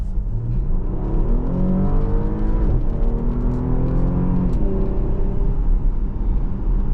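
A 2024 Porsche Panamera 4 with a 2.9 engine accelerates, its engine note climbing and falling through several rising sweeps as it works through the gears. The steady road and cabin rumble stays constant underneath.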